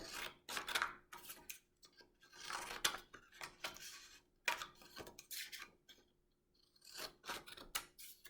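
Scissors snip paper to cut words apart, making a quiet series of short, crisp cuts with irregular pauses between them.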